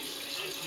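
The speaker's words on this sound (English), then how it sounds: "So I can take a little bit more of that boiling water, passing it through" Boiling water is poured through coffee powder, a short, steady, close pouring and trickling sound heard alone.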